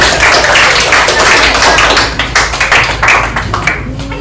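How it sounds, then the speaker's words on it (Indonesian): Students in a classroom break into clapping after a group presentation, a loud, close burst of many hands that thins into scattered individual claps. "Tepuk tangan"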